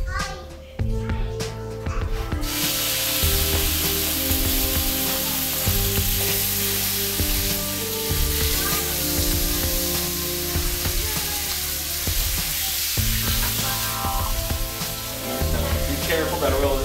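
Chicken breasts frying in hot oil in a home kitchen, a loud, continuous sizzle and spatter under background music.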